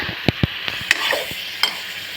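Spice paste hisses and sizzles in a pan after a splash of water, with scattered sharp clicks from a utensil. Close and steady, with no voices.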